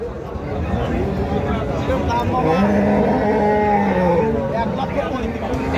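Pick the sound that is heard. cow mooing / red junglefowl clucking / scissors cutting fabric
cow mooing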